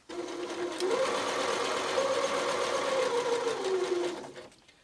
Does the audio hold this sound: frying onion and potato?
no